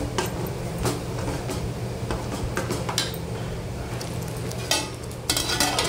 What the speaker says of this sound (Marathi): आणि हा आपण वाटण चांगलं व्यवस्थित परतून घ्यायचं असं तेलामध्ये